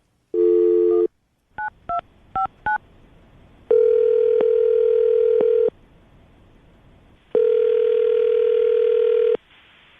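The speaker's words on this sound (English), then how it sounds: "I'm going to dial the phone number right now" A telephone plays a short tone, then rapid touch-tone beeps as a number is keyed, followed by two long ringback tones separated by silence, clear and close.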